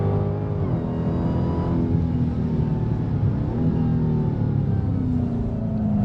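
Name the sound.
2023 Dodge Challenger Black Ghost supercharged 6.2 liter V8 engine on track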